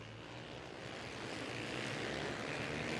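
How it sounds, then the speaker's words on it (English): Supermoto motorcycles at the start of a 2008 race in Tuas, many engines roaring together in a dense, steady wall of revving that swells slightly louder, with no talk. "take their place on the grid, revving up their engines and waiting for the final notification, and they are off"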